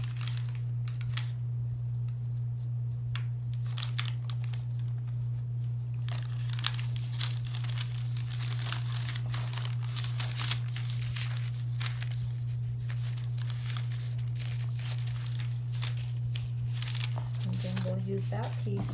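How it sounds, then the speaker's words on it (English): Wet decoupage paper being torn by hand while covering a bulletin board: soft, crinkly tearing and rustling close by, over a steady low electrical hum throughout. "I'm going to wet underneath here and do some tearing also"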